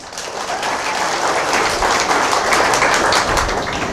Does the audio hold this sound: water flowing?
no